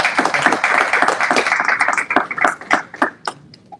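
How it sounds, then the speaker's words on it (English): Audience applause for two speakers at a university talk on investing and fund management, dense clapping that thins into scattered separate claps before fading out. "if we could please give a big round of applause for my colleague Salih Al-Aqib and Mr. Abdulaziz"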